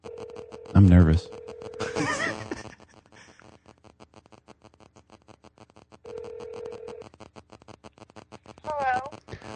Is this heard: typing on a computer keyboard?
no